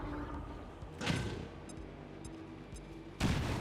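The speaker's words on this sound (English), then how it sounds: "Oh no, grenade to Jane, grenade to Jane." A grenade goes off in the video game XCOM 2. Two sharp, punchy blasts sound about two seconds apart, set against quieter game effects and ambience.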